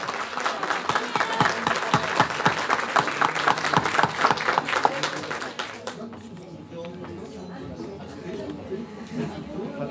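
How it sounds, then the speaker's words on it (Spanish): Audience at a union school graduation ceremony applauding union leaders receiving diplomas; dense crowd clapping for about six seconds, then fading into quieter room murmur and chatter. "Grandes aplausos para todas y todos."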